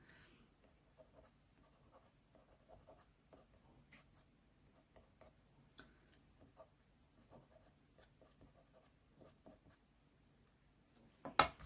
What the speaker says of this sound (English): I'm just going to very gently with the sand eraser,